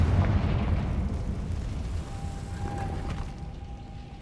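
Confringo spell explosions in the Hogwarts Legacy video game, a deep rumbling blast that opens loud and slowly decays, with a faint tonal ring drifting through the tail.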